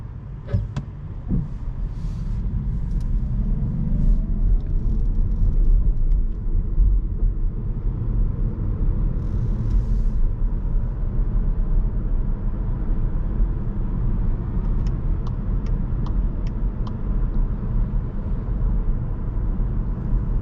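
Steady low rumble of a 2021 Škoda Octavia iV plug-in hybrid driving on battery power, heard from inside the cabin, with constant road and tyre noise and a few faint clicks near the end.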